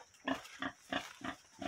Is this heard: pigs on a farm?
yes